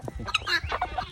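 A frizzle hen clucking up close, a quick string of short, throaty clucks and chirps over about a second.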